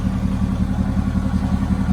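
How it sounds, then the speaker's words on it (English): A 2016 Mercedes-AMG GT with a twin-turbo 503 horsepower engine idles steadily nearby, a low, even rumbling pulse with a slight clatter and no speech. "Engine sounds good."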